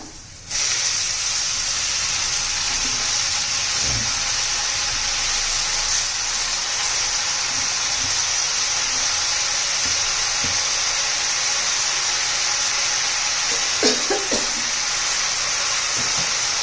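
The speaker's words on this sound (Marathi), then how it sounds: "आता भाजी घालून घेऊया." Fresh spinach goes into hot oil and onions in a kadhai, setting off a sudden loud sizzle that holds as a steady, bright hiss with faint clinks of stirring.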